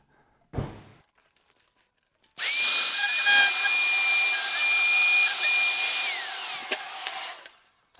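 Power tool trimming the wood veneer edge on a speaker cabinet: a short burst, a pause, then a sustained high whining cut lasting several seconds before spinning down.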